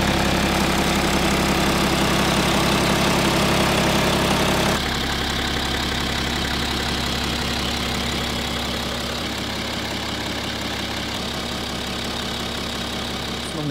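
A BMW 330i with an N57 D30 diesel engine runs at a steady idle close by, a loud, even drone with a knocking texture that drops slightly in level about a third of the way through. No one speaks.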